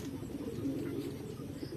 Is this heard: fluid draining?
no